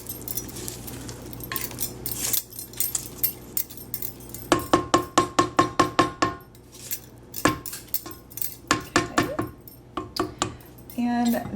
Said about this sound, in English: So just mix in your 1 cup of chocolate chips.